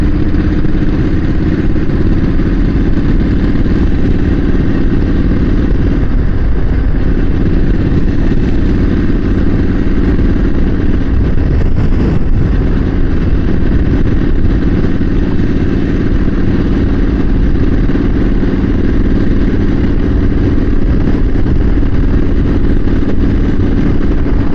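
A motorcycle engine runs steadily throughout, a loud, close, even rumble with some clatter and no change in pace or talking.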